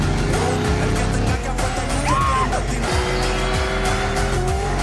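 Race cars in a street race from Fast X accelerate with revving engines and a brief tire squeal mid-clip, loud and close, with layered engine tones shifting as the cars speed up.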